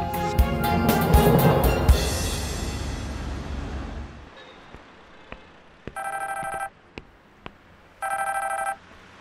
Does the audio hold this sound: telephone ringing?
yes